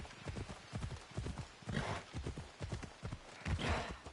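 Horse hooves clip-clop at a steady trotting rhythm in Assassin's Creed Odyssey, a continuous run of close, moderately loud hoofbeats with no talk over them.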